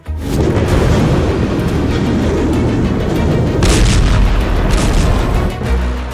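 Loud, heavy bomb explosions roar continuously, a dense rumbling barrage with sharper blasts bursting through near the middle and end.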